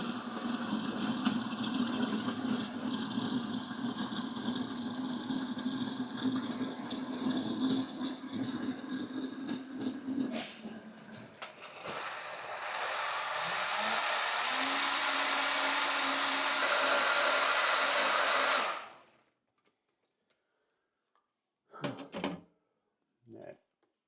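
Electric mixer whirring through pancake batter with added milk, a steady close drone that changes pitch partway as the mixing continues, then stops, followed by a few brief knocks.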